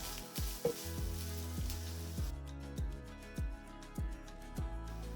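Chopped onions sizzling in hot oil over a medium flame, a dense steady hiss up close, with regular soft knocks of a spatula stirring every half second or so.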